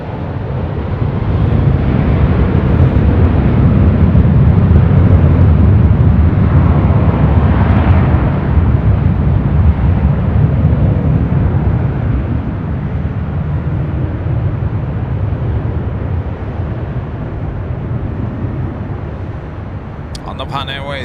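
A jet airliner takes off from runway 24 left at Los Angeles airport, its loud broadband roar swelling early, holding, then slowly receding over about twenty seconds, with voices occasionally audible beneath it.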